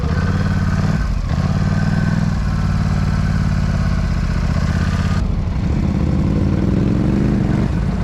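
A Polaris Scrambler 1000 ATV engine runs loud and close with a steady buzzing drone. The pitch shifts around the one- and five-second marks as the throttle changes, and a light clatter sits underneath.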